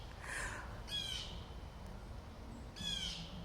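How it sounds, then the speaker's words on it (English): Loud bird calls ring out close by in two distinct bursts of harsh, squawking notes, with a quieter call at the start and steady low background noise in between. "This bird is loud."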